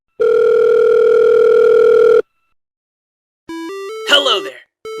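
A phone in the video game Five Nights at Wario's rings with a long electronic tone, falls silent, then sounds again as a stepped rising series of beeps with a brief burst of noise, loud and alone.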